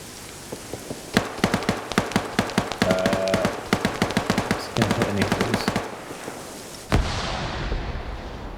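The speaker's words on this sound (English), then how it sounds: "Hearing some auto cannon fire to the south. That's the BTR-80 once again shooting at Echo" Autocannon fire from a BTR-80 armored vehicle in a multiplayer combat video game: rapid bursts of sharp, punchy shots in quick succession over several seconds, fairly loud against a steady background, with one more heavy single report near the end.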